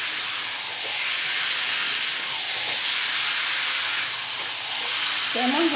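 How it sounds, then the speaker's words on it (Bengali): Paneer is stir-fried with spices in a pan for a potato and pointed gourd curry, giving a steady, close hiss and sizzle throughout with no pauses. "পনিরটা দিয়ে ভালো করে কষিয়ে নিতে হবে"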